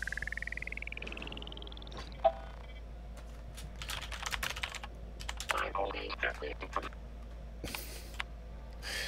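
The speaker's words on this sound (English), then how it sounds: "Look at me typing in W." Keystrokes tap on a computer keyboard in a space-themed typing game, a burst of quick irregular clicks after an electronic rising tone and a sharp beep, with faint background hum.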